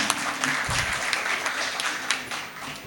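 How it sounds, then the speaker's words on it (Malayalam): A crowd applauds for a supporter, with steady dense clapping that carries on evenly and loudly throughout, with no voices over it. "വലിയൊരു കയ്യടി അർഹിക്കുന്നുണ്ട്"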